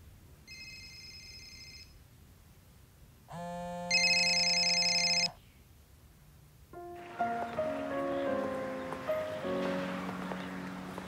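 Home telephone rings in two short electronic bursts, the second louder, before soft music begins.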